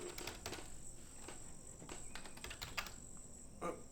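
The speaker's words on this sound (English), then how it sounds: "Oh, I'm using my keyboard." Rapid, uneven clatter of keys on a computer keyboard during a Patch Quest gaming session, a steady run of close, light clicks with a few sharper strikes, with no talking.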